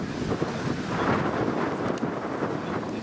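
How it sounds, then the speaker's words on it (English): A thunderstorm in Las Vegas, with a low, continuous rumble of distant thunder mixed with strong wind buffeting and rain noise, loud and unbroken throughout. "That's still a pretty good distance away because we're not hearing a lot of thunder."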